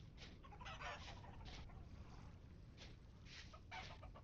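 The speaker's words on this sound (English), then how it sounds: "Hello, chickens." Chickens clucking in the Vintage Story video game, with soft repeated clucks and short calls at irregular intervals over a low background, faint overall and with no talking.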